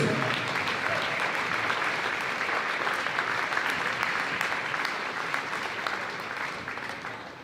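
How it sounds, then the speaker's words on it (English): Crowd applause for the officials at a girls varsity basketball game in a gym, broad sustained clapping that holds steady and eases slightly at the end. "giving a big round of applause for these outstanding officials"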